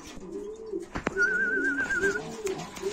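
A pair of hunting pigeons in a breeding loft coos close by. Soft, repeated throaty coos mix with a few rustles and wing or body movements, with no talking.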